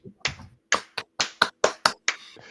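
About eight sharp hand claps in an uneven run during a sports preview show, close and crisp with short silences between them, after a brief murmur at the start.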